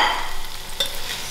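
Masala spices frying with onions in a cooking pot, a steady hiss with a stirring scrape near the middle, close and moderately loud.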